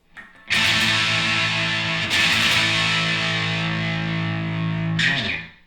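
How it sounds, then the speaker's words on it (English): Electric guitar run through two distortion pedals and an amp for a punk tone, playing sustained, heavily distorted full chords, loud and close, restruck twice before fading out. "So those are the basic tones that you can get from these two pedals, this one amp and this one guitar."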